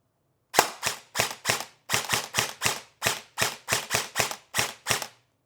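An airsoft John Wick replica rifle fires in quick bursts, sharp snapping shots in irregular rapid clusters, loud and close with no talk over it.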